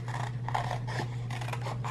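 Scissors snip through paper, cutting out small tree shapes for layered Christmas ornament embellishments, a steady run of close, crisp cuts and rasps under a constant low hum.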